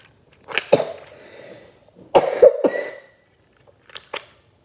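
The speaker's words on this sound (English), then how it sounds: "Cough's getting pretty bad." A person coughs in three short separate bursts, close and fairly loud, with quiet gaps between them.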